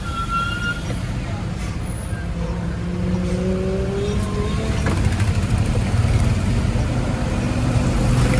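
A truck loaded with sand pulls away through traffic on the road from Haldwani toward Kainchi Dham, giving a steady low engine rumble amid surrounding road noise that swells slightly louder as it moves off.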